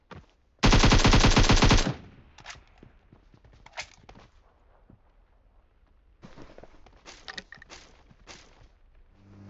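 Gunfire from the video game PUBG: a dense burst of rapid automatic shots lasting about a second, followed by quieter scattered footsteps and small in-game clicks and thumps, with no speech.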